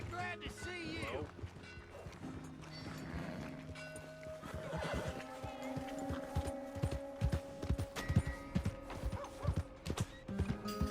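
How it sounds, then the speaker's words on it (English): In Red Dead Redemption 2, a horse whinnies near the start, then hooves clip-clop in a quickening rhythm toward the end, with a voice speaking over the game sounds. "Hey! My horse! Am I glad to see you?"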